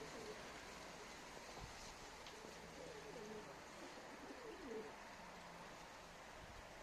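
Soft cooing of pet pigeons repeats now and then, faint beneath a steady wash of outdoor background noise.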